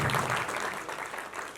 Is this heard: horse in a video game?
no